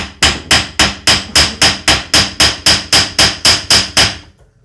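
Steady, evenly spaced hammer blows forging an iron tip for a burner machine, about fifteen sharp ringing strikes in a row, close and loud, with no voices.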